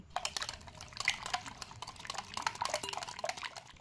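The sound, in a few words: stirring baking powder into thin batter in a bowl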